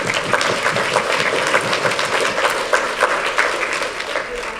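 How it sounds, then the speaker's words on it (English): Audience applause at a charity anniversary gathering, a steady mass of clapping from a crowd filling the whole stretch, with a voice speaking faintly underneath. "We can give her applause, no?"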